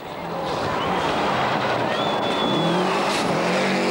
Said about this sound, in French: Un léger problème de différentiel central sur la Subaru d'Ericsson l'oblige à patienter plutôt qu'à combattre